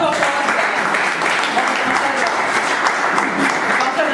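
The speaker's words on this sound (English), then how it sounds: "All right, a round of applause." Audience applause at a debate session, dense and continuous clapping from a crowd that holds at an even, fairly loud level without pauses.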